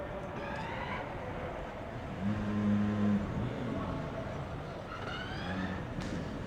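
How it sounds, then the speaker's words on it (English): A combustion driverless Formula Student race car engine fires up at an autocross event with a low, rumbling surge that swells for about a second, then settles into a steady idle amid background noise. "I've just heard the car fire up, so it's a combustion driverless car."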